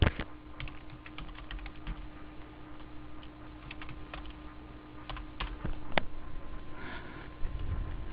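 Fingers typing on a computer keyboard while entering data into accounting software: irregular, close clicks and key taps in short bursts over a quiet background, with no talking.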